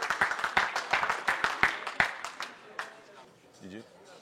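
Audience clapping for a kickboxer at a fight-night weigh-in, a burst of sharp hand claps with irregular rhythm that fades out over a few seconds, while a voice speaks over the end.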